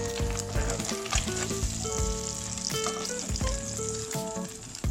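An egg omelette frying in a pan for a Thai clear egg soup gives off a steady, close sizzle for the whole stretch, with a few louder crackles and a tonal musical bed underneath.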